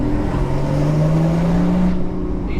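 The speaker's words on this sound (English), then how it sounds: "we'll lower the windows real quick just so you guys get a bit more exhaust note" A Porsche Cayman's exhaust note heard from inside the cabin with the windows lowered, a loud, steady droning engine tone that rises slightly in pitch and echoes off nearby walls, without talking.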